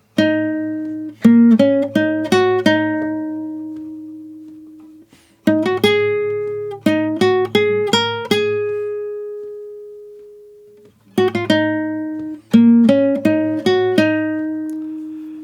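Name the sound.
guitar playing intro melody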